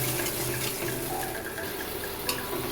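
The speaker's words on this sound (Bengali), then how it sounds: "মশলার বাটি ধোয়া জলটা দিয়ে দিলাম" Water from rinsing a spice bowl is poured into a pan of cooking spice paste for a Bengali fish curry with raw banana, giving a steady, soft splashing hiss throughout.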